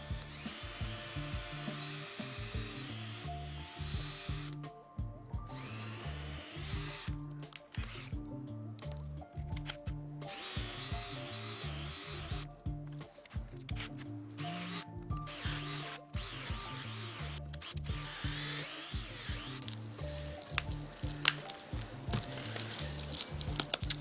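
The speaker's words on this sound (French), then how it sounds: "on va réaliser les différents trous dans notre bout de bois" A cordless drill bores a series of holes in a piece of wood held by hand, its motor whining steadily with repeated short stops and restarts and shifting pitch as each hole is cut.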